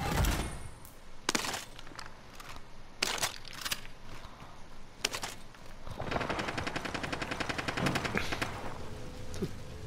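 Gunfire in the Warzone Gulag, with sharp isolated shots early on and then a dense, rapid automatic burst toward the end, all loud and close. There is no talk over the shooting.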